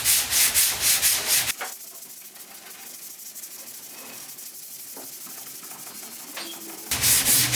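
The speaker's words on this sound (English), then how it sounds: "Can you feel a difference while you're sanding" Rhythmic rasping strokes of hand sanding a fiberglass part, loud and close at the start and end, with softer, steadier scratching in between.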